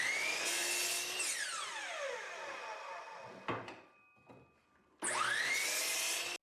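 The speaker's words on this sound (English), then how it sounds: "Now I've got a stop block set up on my miter saw, and I'm going to cut the handles to 4 inches long." A miter saw cuts wooden clamp handles to length against a stop block: a loud motor whine spins up and winds down, a brief knocking handling pause follows, then the saw roars again for a second sustained cut.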